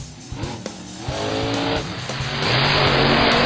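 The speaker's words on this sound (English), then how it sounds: "Monster truck." A monster truck's engine roars and builds steadily, with tire noise layered in as the sound grows louder toward the end, close and alone with no voices.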